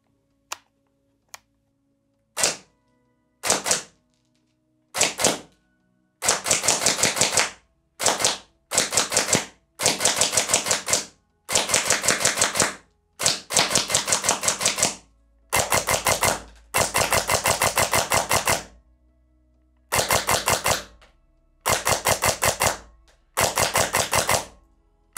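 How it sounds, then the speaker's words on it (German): A Silverback MDR-X airsoft sniper rifle firing 0.3 g BBs into a cardboard box: two single sharp snaps, then repeated bursts of rapid mechanical gear clatter and motor whir, each lasting about a second, loud and close with no talking. "ich schieße natürlich wieder einmal auf einen Karton"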